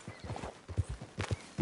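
Horse hooves clip-clopping at a walk in Red Dead Redemption 2, a steady rhythm of close, fairly loud thuds with a few irregular steps and no talking.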